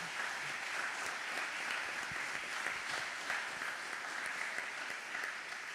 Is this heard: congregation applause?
yes